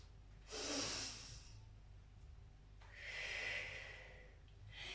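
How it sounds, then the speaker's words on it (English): Two deep breaths drawn in slowly during a gentle stretching routine, each a soft, airy rush lasting about a second, close to the microphone with a quiet pause between them and no talk. "Take a deep breath in"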